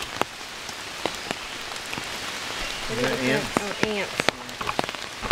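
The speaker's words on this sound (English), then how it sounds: "Get it underneath here though, since it's raining." Rain falling outdoors, a steady patter with scattered sharp drops close by, while people talk quietly in the middle.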